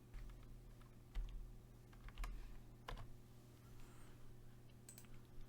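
Someone types code on a computer keyboard at a quiet pace, the keystrokes soft and close with a few slightly louder taps, over a steady low electrical hum.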